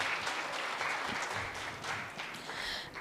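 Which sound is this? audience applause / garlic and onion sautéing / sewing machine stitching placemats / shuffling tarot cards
audience applause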